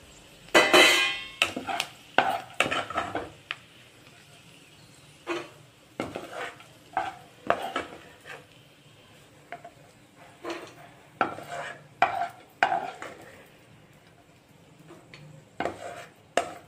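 A spoon scrapes and clinks against a metal kadai as ingredients roasted golden in ghee are moved onto a plate, in sharp, irregular bursts of clatter with quiet gaps between them.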